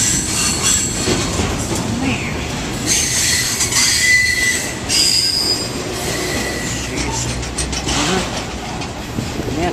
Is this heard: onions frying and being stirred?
no